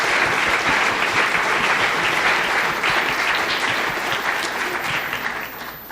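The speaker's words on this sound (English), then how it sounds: "one more round of applause for Ken and Heidi" An audience at a local innovation pitch competition gives a loud, sustained round of applause, thick clapping that holds steady and then tapers slightly toward the end.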